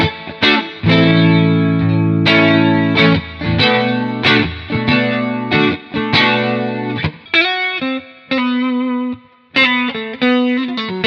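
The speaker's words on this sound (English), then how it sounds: "it sounds like a clean Fender amp with a Phase 90 on it" Clean electric guitar tone from an Amplitube 5 Fender amp simulation with a Phase 90 phaser, playing a loud, unaccompanied riff of ringing chords and separate notes broken by short pauses.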